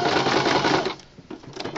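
A sewing machine zigzag-stitches around fraying fabric edges for a toy car, a loud, rapid mechanical whirring close by that runs for about a second before dropping to quieter, scattered clicks.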